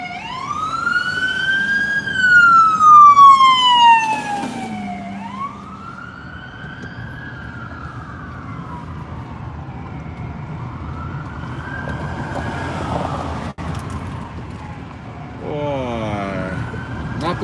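An ambulance siren wails past on a Las Vegas street during cold, windy weather, its rising and falling tones loud and close at first, then sweeping lower and fainter before a new yelp starts at the end.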